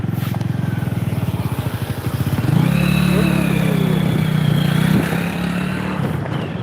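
Motorcycle ridden on a road, its engine chugging in a rapid low pulse and then rising into a sustained loud drone as it accelerates, close and dominant throughout.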